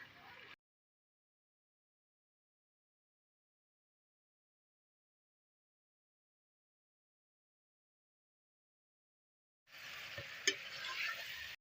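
Onions browning in a frying pan for a red kidney bean (laal lobia) curry give a brief sizzle, then a long stretch of silence, then a steady, close, hissing sizzle and crackle for the last two seconds.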